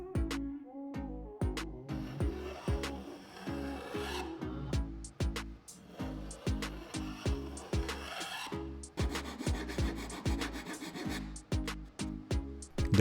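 Hand plane shaving excess wood edge banding off a plywood panel, a rapid series of close, rasping strokes with brief pauses between runs.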